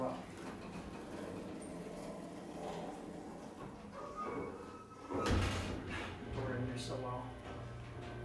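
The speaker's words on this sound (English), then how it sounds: "Well, that's a pretty slow single side door." Slow single-side door of a worn thyssenkrupp Oildraulic hydraulic elevator in a medical office building, a soft sliding rumble with a brief thump partway through, faint under someone talking.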